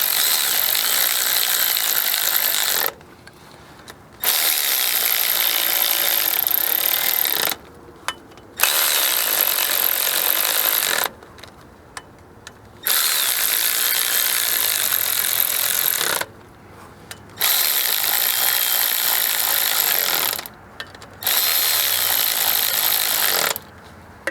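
A hand ratchet snugs down transmission pan bolts in a crisscross pattern, with bursts of rapid clicking separated by short pauses as the wrench moves from bolt to bolt, close and fairly loud with no talking.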